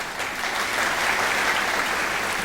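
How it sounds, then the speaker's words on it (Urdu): A crowd applauds at a Pakistan Air Force stage show: a loud, sustained wash of many hands clapping together that fills the hall at a constant level, with no talking on top. "آپ کی بھرپور تالیوں میں ایئر وائس مارشل سعید انصاری صاحب"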